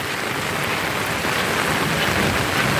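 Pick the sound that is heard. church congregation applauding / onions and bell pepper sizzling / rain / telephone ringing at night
rain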